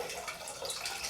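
Hypo clearing agent, a darkroom film-processing liquid, pours in a short, close, steady splash and trickle back into its container, lasting about a second.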